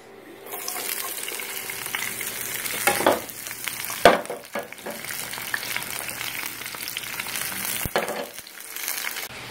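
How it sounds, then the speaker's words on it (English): Peppers, zucchini and yellow squash frying in a pan, a steady close sizzle with a few louder stirring clatters and scrapes breaking through, no talking. "I'm going to cook peppers, zucchini, and yellow squash first"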